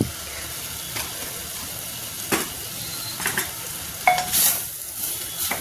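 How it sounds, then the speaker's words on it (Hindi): Radish sabji fries on a gas stove while being stirred, a constant close sizzle broken by several sharp scraping and clinking strokes of the spoon against the pan. "सब्जी को भून लेते हैं, गैस को तेज करेंगे"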